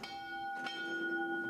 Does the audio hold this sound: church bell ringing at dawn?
yes